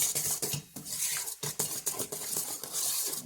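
A utensil mixes cinnamon roll dough ingredients of flour, sugar and salt in a bowl, giving quick irregular scraping and clinking strokes, close and fairly quiet, with no talk.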